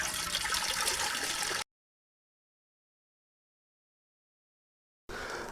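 Water heats in a pot for cooking tur dal, a steady broadband rushing hiss that cuts off abruptly into silence for a few seconds and then resumes.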